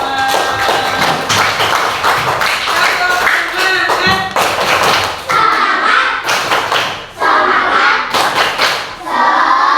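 A group in a classroom setting claps their hands together, loud and close, in uneven bursts of overlapping claps with brief pauses and a few thumps and taps mixed in.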